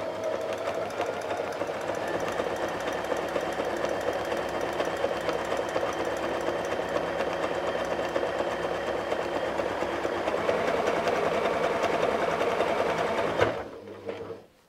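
Sewing machine stitching the second fin of a fire fish quilt appliqué in zigzag stitch, a steady close mechanical whir running continuously for most of the clip before stopping abruptly near the end.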